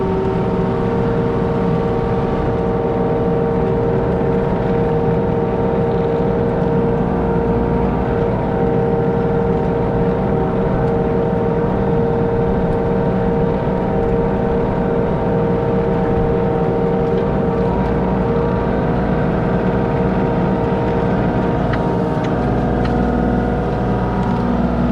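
A tractor engine runs steadily at close range, a loud continuous drone with a constant low hum and no pauses, heard alone without voices.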